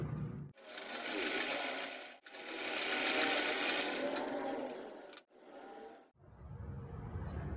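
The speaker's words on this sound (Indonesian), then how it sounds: "Ini kita jahit." A sewing machine stitches a child's fabric dress, running in several long buzzing bursts with brief stops between, close and fairly loud.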